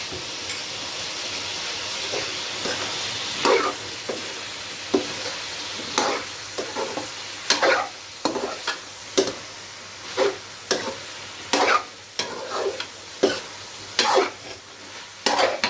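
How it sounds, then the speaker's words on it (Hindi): Beef frying in a pan with turmeric and red chili for kaddu gosht, a soft steady sizzle broken by repeated close scraping stir strokes that come faster and louder in the second half. "इसको अच्छी तरह फ्राई करना है।"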